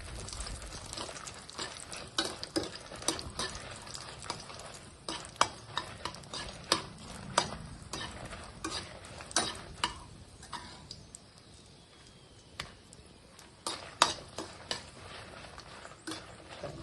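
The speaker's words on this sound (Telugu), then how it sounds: "అందుకని సిమ్లో పెట్టి ఫ్రై చేసుకోవాలి వీటిని" Dried red chillies fry slowly over a low flame for a mint chutney, giving a soft, quiet crackle under frequent light spoon taps and stirring clicks against the pan.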